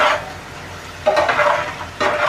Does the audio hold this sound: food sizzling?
yes